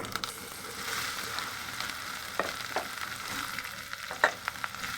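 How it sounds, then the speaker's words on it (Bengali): Okra pieces fry in a pan with onions and chilies, a continuous close sizzle broken by a few sharp utensil knocks and scrapes, no talking. "এখন আমি দিয়ে দিচ্ছি ঢেঁড়সের টুকরোগুলি।"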